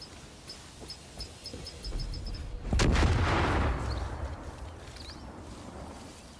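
A car explodes in a single heavy, booming blast at mid-clip, followed by a rumbling roar that fades over a couple of seconds, with faint ticking and wind beforehand.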